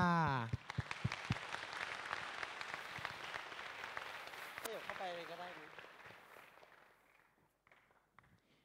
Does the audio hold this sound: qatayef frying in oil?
no